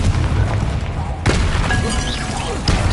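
A blasting spell explodes in Hogwarts Legacy, a sharp crack and boom at mid-clip cutting through loud continuous game noise, with a faint ringing tone afterward.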